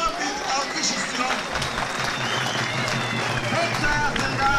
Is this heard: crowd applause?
yes